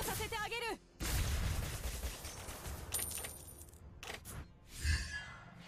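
Gunfire sounds in the Mobile Legends mobile game come as rapid bursts of shots over busy game effects, with a voice briefly heard near the start.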